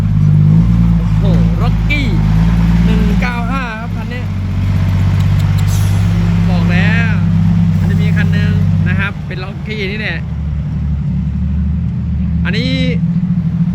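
A modified six-wheel dump truck's exhaust roars with a deep, loud, continuous rumble that dips then surges, with people talking and calling out over it throughout.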